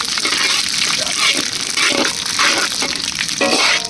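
Spices for tempering hit hot oil for kacchu shak, a loud, continuous hissing sizzle with crackling bursts throughout, close and dominant.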